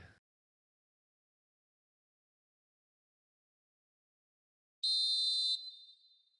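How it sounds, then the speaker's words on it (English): A referee's whistle sounds once in an eFootball video game match, a single short shrill blast called for offside, loud and alone after near silence with a brief fading tail. "And the whistle's gone, presumably for offside."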